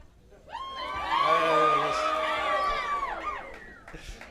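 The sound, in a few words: convention crowd cheering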